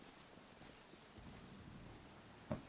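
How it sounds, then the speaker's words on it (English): Heavy rain pours steadily in the Pathfinder: Kingmaker video game, a soft wash of downpour with a low rumble swelling partway through and a brief sharp crack near the end. "Apparently it's now raining heavily"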